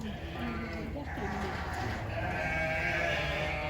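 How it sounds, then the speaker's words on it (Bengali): Small goats on a livestock farm bleat a few times at moderate distance over steady outdoor background noise, with voices murmuring nearby. "এই ছাগলগুলো আমার দেশের ছাগলের মতো লাগে"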